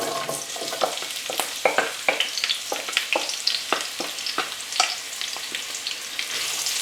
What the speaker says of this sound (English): over a medium heat we just want to start to caramelise these onions